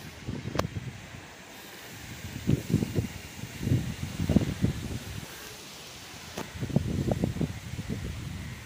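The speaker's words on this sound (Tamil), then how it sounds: "காற்று எப்படி அடிக்க பாருங்க, சரியான காற்று அடிச்சுட்டுருக்கு." Strong cyclone winds around Chennai buffet the microphone in heavy, rumbling gusts that swell and fade in irregular surges, with brief lulls of steady hiss between them and no voices.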